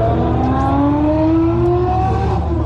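Sports car accelerating hard from a launch, a loud engine roar with rising pitch as it pulls away, sustained and close, no talk.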